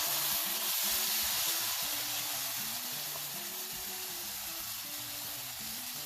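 Tomato puree hitting hot oil with coriander and cumin powder in a pan: a steady, bright hissing sizzle, fairly quiet and continuous, with no speech.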